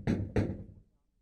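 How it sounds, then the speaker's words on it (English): Two quick, firm knocks land on a wooden door, close and clear, followed by a short fading resonance and then silence. "Someone knocks at the door."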